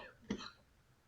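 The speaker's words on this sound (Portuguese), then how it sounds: "tossir um pouquinho" A single short cough from a man during a lecture, close and fairly quiet, standing alone against a faint background.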